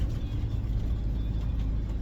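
A small car driving on narrow, twisting mountain roads near Genoa, its engine a low steady hum under faint road noise, fairly quiet and continuous with no talking.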